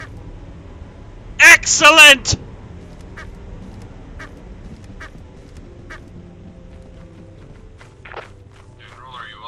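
Rubber duck squeaks out a loud burst of quacks in the video game Lethal Company, with a short voice exclamation and footsteps nearby.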